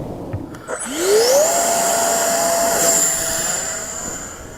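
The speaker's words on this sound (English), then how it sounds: "make sure you've got the EDF all the way up to speed, she'll hand launch like a dream" FMS F-15 Eagle V2 RC jet's electric ducted fan spooling up to full speed for a hand launch, a rising whine that climbs quickly, then holds as a loud steady high-pitched rush.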